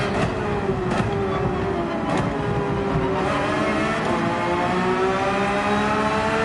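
Race car engine at Monza in Gran Turismo 7, a loud, steady roar with the pitch climbing gradually as it accelerates, heard alone.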